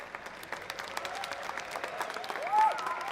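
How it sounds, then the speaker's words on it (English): Applause rises from the crowd at the ABU Robocon 2023 national robotics contest, a fairly faint, diffuse patter of many hands with a brief tonal whistle-like sound near the end. "Let's give them a big round of applause"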